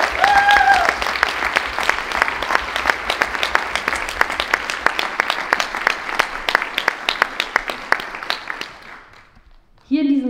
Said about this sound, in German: Ich würde sagen, einmal ganz großen Applaus für die großartige Wasserbesetzung in Grünheide.